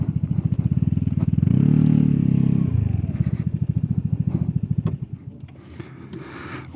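A Vespa GTS 300 scooter putters nearby with a loud, pulsing engine that swells briefly, then slows to a low idle and fades as it pulls over and stops.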